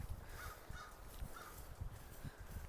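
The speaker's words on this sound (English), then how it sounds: "Hear the crows?" Crows caw beside a creek in Regina, four or five evenly spaced, faint, rasping calls carried over a soft outdoor background.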